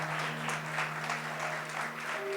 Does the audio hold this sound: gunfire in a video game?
no